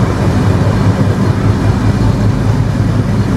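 Rupsha Bangla Express passing Mawa railway station, a loud, steady rumble of rolling wheels and carriages with no break.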